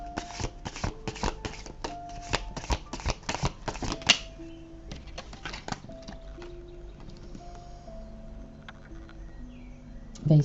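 Tarot cards are shuffled in a quick run of crisp riffling flicks, then dealt and laid out with scattered soft slaps and taps, close and clear with no talking.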